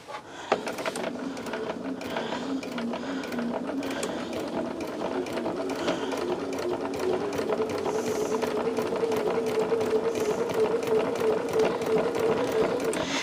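A sewing machine stitches binding onto a quilt, running steadily and fairly loudly with a dense mechanical whir and rapid ticking that grows slightly fuller toward the end, with no voices.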